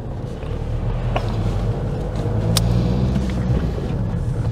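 Opel Astra J 2011 2.0 CDTI diesel car pulling away slowly, a steady low engine rumble with a gentle rise as it moves off, heard from inside the cabin without talk.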